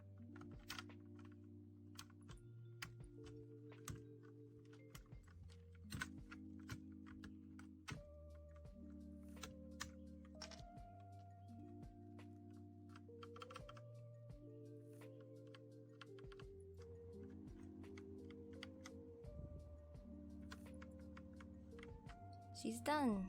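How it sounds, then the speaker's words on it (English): Keycaps are pulled off an Akko 3087 mechanical keyboard, giving scattered sharp plastic clicks and snaps at an irregular pace. They sit quietly under melodic background music. "Now let's pull these caps."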